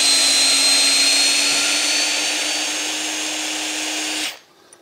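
A Festool C18 cordless drill driver with a socket drives a bolt, a loud steady high whine that stops abruptly as the torque control cuts out.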